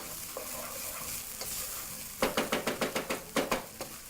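Minced meat and onions sizzle and fry in a pan under a steady hiss. Partway through, a utensil stirs and scrapes in a quick series of rhythmic clinks.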